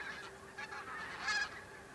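Migrating geese honking in the Arctic, several loud nasal calls in quick succession from a nearby flock, with a louder burst near the end and no voices.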